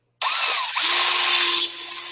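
A power drill whirs steadily as it bores a hole for an aquaponics T-syphon, a close, continuous motor whine with small shifts in pitch as the bit works through the material.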